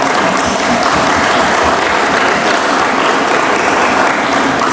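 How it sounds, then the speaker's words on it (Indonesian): Steady, dense applause from the audience for the buyers at a tourism business table-top networking event in Jepara, loud and unbroken throughout with no talk over it. "tepuk tangan"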